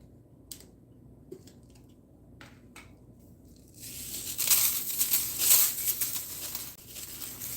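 Pork chops dipped and turned in egg wash, making soft, wet squishing and slapping sounds up close; quiet handling noises come first, then a denser burst of squelching in the second half.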